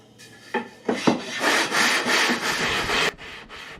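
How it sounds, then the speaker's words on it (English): A tone wood snare drum shell is sanded flat, making rhythmic rasping strokes that start short and scratchy, then turn into longer, steady back-and-forth rubs up close. "And so it needed to be sanded so that it was flat before we did any additional work to it."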